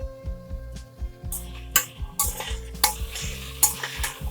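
Beans, potatoes and green peas frying in a pan while being stirred, with a steady sizzle under repeated scraping and clinking strokes of a spoon against the pan.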